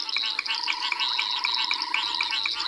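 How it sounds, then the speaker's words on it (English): A dense, steady chorus of frogs calls on a South African safari evening, with the banded rubber frog's very high-pitched trill repeating rhythmically among other calls, continuous and fairly close. "There's that very high-pitched sound. That's that banded rubber frog I spoke about earlier."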